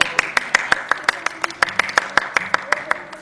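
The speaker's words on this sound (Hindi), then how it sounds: "तालियां।" Classroom students clap in unison during a chemistry lesson, a crisp, evenly spaced run of about twenty sharp claps, close and loud, with faint chatter underneath.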